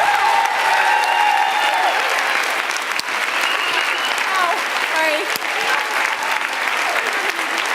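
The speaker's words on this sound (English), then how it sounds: "give a round of applause to someone very special" An audience breaks into loud, sustained applause and cheering as the CEO of Health Coach Institute is introduced, with many hands clapping close and dense and some voices shouting in the crowd.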